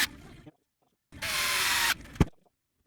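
A band saw fitted with a circle-cutting jig makes a test cut in a wooden blank, a steady loud machine whine lasting just under a second after a short burst of earlier noise, then stopping with a sharp knock.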